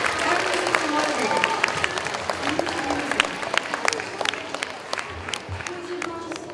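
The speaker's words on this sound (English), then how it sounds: "Give them a round of applause." An audience at a school holiday band and chorus concert applauds a jazz band with dense, sustained clapping filling the room, steady and fairly loud, with a few voices mixed in.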